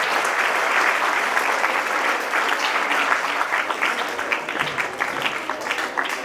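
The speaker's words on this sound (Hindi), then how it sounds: "तालियां बजाएं।" An audience at a school award ceremony at a CBSE school in Mohania claps in a sustained round that gradually thins into looser, individual claps toward the end.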